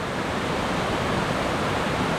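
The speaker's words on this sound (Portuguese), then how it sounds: "Aqui a gente já chega em outra cachoeirinha ali, que fica no meio da mata" A small forest waterfall pours in a dense, steady roar that fills the whole short stretch without a break, close and loud with no other sounds.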